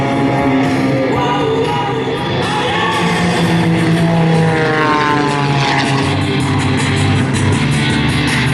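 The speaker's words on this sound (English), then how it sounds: "put the aircraft down on the deck at speeds of over 300 kilometres an hour" A propeller-driven airplane comes in to land at an air show, its engine droning steadily and loudly with shifting pitch as it passes, over a faint murmur of the crowd.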